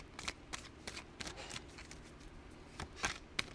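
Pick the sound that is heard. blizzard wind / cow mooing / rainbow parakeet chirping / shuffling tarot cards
shuffling tarot cards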